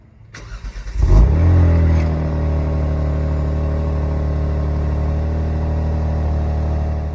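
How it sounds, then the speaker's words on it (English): A 2022 Genesis G70 3.3T cold-starts, heard close to the exhaust: a brief starter crank and loud flare, then a steady, deep idle that settles and holds. "so that you guys can actually hear what it sounds like with me standing by the exhaust for a cold start in the morning"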